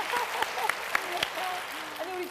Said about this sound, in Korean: 격려의 박수 한번 주세요